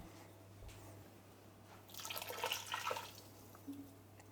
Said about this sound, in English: Fill it halfway up with water.